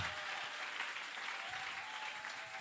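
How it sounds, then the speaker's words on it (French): Congregation clapping steadily at an Easter seminar gathering, a dense, continuous wash of applause filling the room for the whole stretch, with a faint sustained tone beneath. "que quelqu'un acclame pour Jésus"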